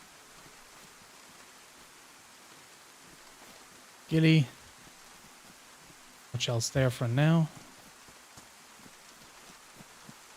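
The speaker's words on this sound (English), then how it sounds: "The heavy rain's actually working in our favor here." Steady heavy rain in a video game forms a constant hiss throughout, with a voice briefly speaking over it twice.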